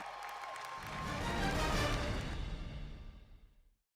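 An audience applauding and cheering at the L-Men of the Year 2011 pageant stage show, a crowd roar that swells, peaks, then fades out to silence.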